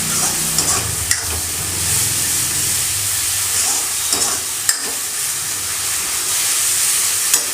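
Potato and onion curry stirred in a pan as yogurt is added, with a continuous sizzling hiss and scattered scraping knocks of the spoon throughout.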